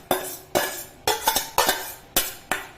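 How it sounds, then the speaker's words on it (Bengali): A spoon scrapes and clanks against a pot while chicken tehari is stirred, giving about seven sharp metallic strikes at an uneven rhythm, close and fairly loud, with no talking. "এবার সুন্দর করে আমি এগুলোকে নাড়ব একসঙ্গে।"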